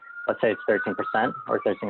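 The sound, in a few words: police sirens in city street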